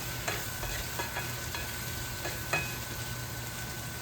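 Onions fry and soften in a pan for poori kurma, a quiet steady sizzle broken by a few soft stirring scrapes and taps.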